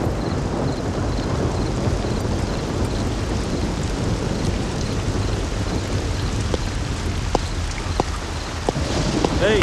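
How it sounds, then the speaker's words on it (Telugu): Steady rain in a rural Banjara village setting, a dense continuous wash of falling drops with a few sharp cracks near the end, loud and close throughout with no clear talk. "వర్షం వస్తున్నది సారు"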